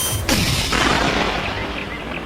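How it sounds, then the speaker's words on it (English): A gunshot fired while hunting black bear in the misty mountains of the Victoria Highlands: one loud, sharp crack followed by a long rolling echo that slowly fades, with no voices. "sound of gunfire echoes among the misty mountains of the Victoria Highlands"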